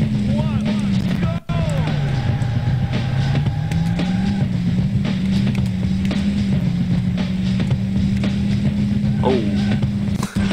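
Engine drone of cars racing in a video game runs steadily throughout, a continuous mid-pitched hum with shifting pitch and a brief dropout near the start.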